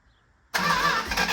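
A small engine on the ground bursts into life after a moment of near silence and keeps running loud and steady, throttle held partly open to keep it going.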